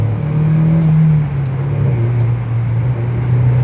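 A Mazda MX-5 sports car accelerates with a loud, close engine drone whose pitch holds steady then dips slightly as it pulls away, with no one talking.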